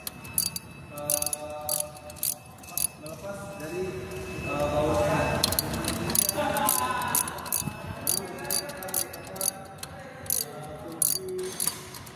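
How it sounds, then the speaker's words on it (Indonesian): A ratchet socket wrench clicks in quick rapid bursts, loosening a 10 mm bolt on a 3406 engine, close and crisp, with other metallic handling between the runs of clicks. "Lakukan pengendoran dan pelepasan baut."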